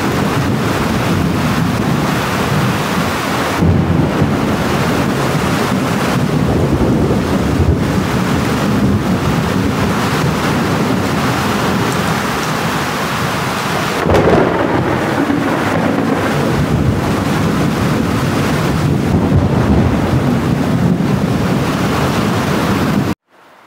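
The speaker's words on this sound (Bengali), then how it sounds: "দেখছেন শব্দটা দেখুন গাইজ, অনেক বৃষ্টি" Heavy rain pours down in a dense, unbroken roar close by, its hiss thickened by gusts of wind buffeting the microphone.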